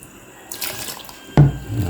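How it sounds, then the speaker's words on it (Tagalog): Tap water runs into a cooking pot for rice, a quiet hiss that swells into a louder, steady gush of pouring water partway through. "Lagyan natin ng tubig. Maraming tubig lang yung dapat."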